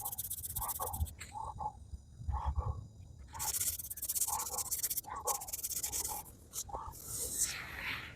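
Hand sanding along the edges of a car fender with sandpaper during bodywork, producing rhythmic scratchy strokes in repeated bursts, fairly close and moderately quiet over soft background noise.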